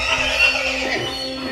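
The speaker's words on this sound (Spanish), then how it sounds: "incluso hasta escuchado caballos galopando" A horse whinnies in a loud, drawn-out neigh that stands alone without speech, with only a faint hint of hooves.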